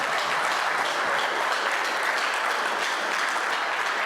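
Sustained audience applause at a talk on men of color securing successful futures, dense, steady clapping from a large crowd filling the room without a break.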